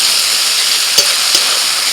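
A paste of ground ginger, garlic, green chilli, cumin and mustard fries in a pan with onion and chopped tomato, hissing in a constant close sizzle. Two brief stirring taps cut through it.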